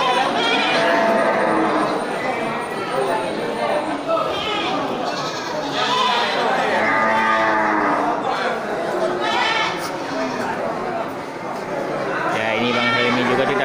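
Female goats and sheep at the Bireuen livestock market bleating repeatedly, several overlapping calls near and far amid crowd chatter, with people talking close by throughout.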